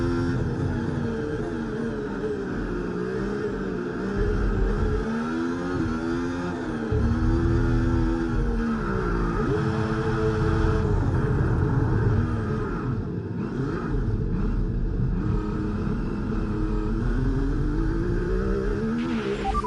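Continuous engine roar of a Formula 1 car racing at Imola, its pitch rising and falling through gear changes and revs, loud and sustained with a harmonic, buzzing tone.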